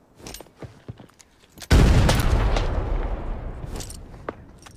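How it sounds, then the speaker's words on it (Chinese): A hand grenade goes off in a shooter video game with a sudden loud boom that rolls into a long, fading rumble. A few scattered gunshots come before it and one more sharp shot follows. "丢个手雷炸一炸"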